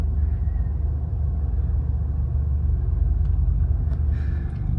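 A BMW 750li engine idles at low revs after a top-end refresh, a steady deep rumble held close and constant with no voices.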